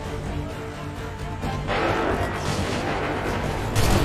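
Dense, continuous booming battlefield din from cannon fire in Assassin's Creed III, loud and rumbling throughout with layered blasts rather than distinct separate shots, swelling louder midway and again near the end.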